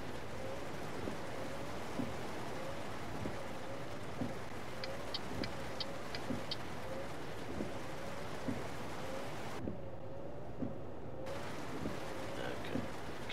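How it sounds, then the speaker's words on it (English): Steady rain drums on a truck cab in the video game Euro Truck Simulator 2, with windscreen wipers thumping at a regular two-second beat and a short run of indicator ticks partway through. "Can you hear the sound of the rain and the windscreen wipers, the indicators and all that?"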